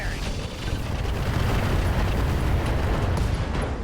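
Mech weapons firing in RogueTech, a sustained roaring barrage of blasts and explosions that fills the whole span, loud and dense with no pauses.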